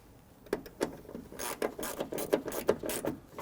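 A ratchet clicks fast while snugging down the bolts on a front door check of a 2006–2012 Toyota RAV4. The clicks come in short bursts at close range and sound faint and light.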